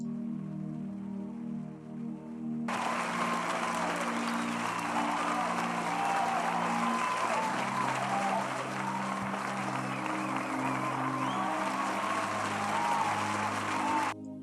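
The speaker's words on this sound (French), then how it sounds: "Il faut même qu'on applaudisse où on est" A congregation bursts into applause during a prayer gathering, a dense wash of clapping that starts abruptly after a brief pause with music underneath and continues steadily until it cuts off.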